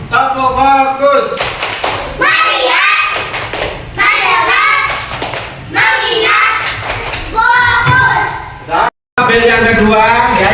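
A primary-school class in Indonesia performs a rhythmic focus clap, with loud, close, patterned bursts of clapping and thumps alternating with children's chanting voices, repeated in several cycles.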